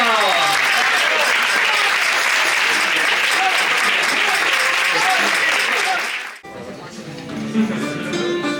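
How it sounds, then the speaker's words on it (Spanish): Loud, sustained applause from a crowd after a Christmas carol at a university theology faculty, dense clapping filling about six seconds before cutting off abruptly into quieter room sound with a few scattered claps. "Un fuerte aplauso."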